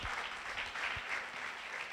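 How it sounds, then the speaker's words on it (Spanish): A church congregation applauds at a worship service, a steady dense wash of many hands clapping continuously and fairly evenly throughout, with no voices heard. "Dele ese fuerte aplauso a Jesús el Señor."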